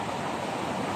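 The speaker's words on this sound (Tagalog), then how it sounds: "So ito lang ang iwan ng Bagyong Tino, mga malalakas na alon dito sa lugar namin." Strong surf left by Typhoon Tino pounds the shoreline at Baliguian, Zamboanga, as a dense, continuous roar of breaking waves, loud and close.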